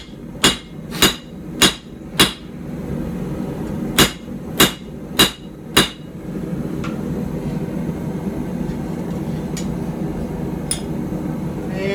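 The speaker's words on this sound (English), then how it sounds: "I'm trying to keep it squared as I'm flattening it" Hot steel is forged and flattened for a puukko knife with a hammer. Two sets of four loud, evenly spaced ringing blows are heard close up, followed by a steady background roar, likely the forge fire, with a few faint taps.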